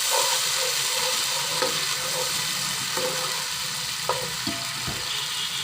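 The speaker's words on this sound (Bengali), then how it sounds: "এখন আমি সিদ্ধ ডালগুলো এর মধ্যে ঢেলে দেব।" Boiled lentils poured into a pan of fried spices for an egg and dal curry, giving a steady close sizzle with a few soft splashes and stirring clicks, no voices.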